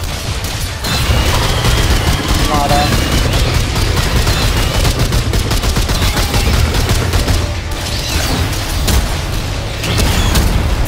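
Dense video-game gunfire rattles through a Remnant II co-op boss fight against Tal'Ratha, with rapid, continuous loud shots and intermittent booms and crashes for about ten seconds.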